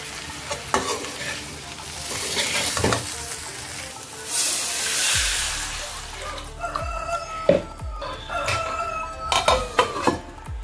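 Vegetable curry sizzles and spatters in a pan as water is poured in, a burst of loud hissing followed by steady frying and the clatter of stirring, with a rooster crowing faintly in the background.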